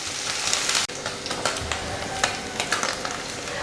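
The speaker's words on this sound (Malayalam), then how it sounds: "ഇത് നമുക്കൊന്ന് ഫ്രൈ ചെയ്തെടുക്കാം." Paneer cubes frying in a pan, a dense close sizzle and crackle that cuts out for an instant, then resumes with scattered pops and light clinks, no voices.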